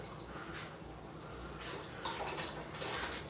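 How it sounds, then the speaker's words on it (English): Water splashing and running over a shower pan area being soaked down during installation, irregular close splashes and spatters over a constant low wash. "So we want to get this area soaked down with some water so that way it forms correctly."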